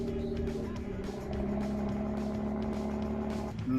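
A wrecked car with ceramic brakes idles steadily after starting, a constant droning engine hum with a layered tonal whine that holds for several seconds before a brief shift at the end.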